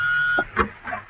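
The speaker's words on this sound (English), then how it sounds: "rush to the door to greet him as the buzzer sounds" A door buzzer in an old radio drama gives a short steady buzz that cuts off, followed by a couple of brief muffled knocks and movement sounds.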